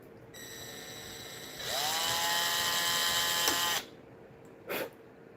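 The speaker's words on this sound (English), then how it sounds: "It's so scary drilling that close to the edge." A power drill whines up to speed drilling into wood near the edge, running steadily for about two seconds, then stops, followed by a brief faint scrape.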